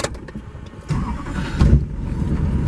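A pickup truck drives over a very bumpy road, its engine rumbling steadily from inside the cab while jolts and thumps swell partway through.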